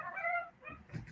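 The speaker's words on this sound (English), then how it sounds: "I thought that was like a cat getting caught in a door there." A short, cat-like yowl with a strained, wavering pitch, like a cat caught in a door, rising and falling for about a second before trailing into faint noise.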